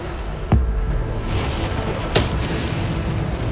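Bombarda spell blasts in Hogwarts Legacy, two sharp booming impacts about a second and a half apart over a steady rumbling battle background.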